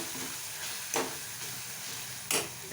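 Minced mutton keema fries in a pan under a steady close sizzle, with two brief louder scrapes as it is stirred.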